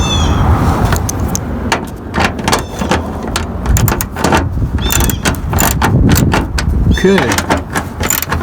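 Screws of a silicone license plate frame being fastened to a vehicle with a wrench or screwdriver, giving repeated close clicking, ratcheting and scraping under steady talk and occasional car-body knocks.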